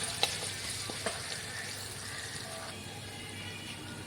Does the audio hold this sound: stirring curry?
yes